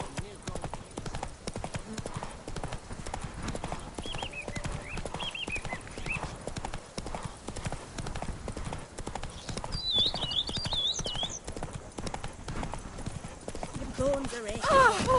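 Horse hooves clip-clop steadily in the video game The Witcher 3, a continuous rhythmic trot beneath game music, with voices speaking and a short whinny near the end.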